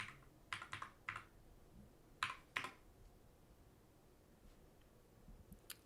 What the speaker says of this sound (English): in the search bar, I'm just going to type in a broad category